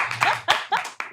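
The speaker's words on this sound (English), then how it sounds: "Big round of applause for our new team member who is here on the couch today" A few separate hand claps ring out close by, four or five sharp bursts in a row for a new team member in a studio, thin like one or two people clapping rather than a full audience.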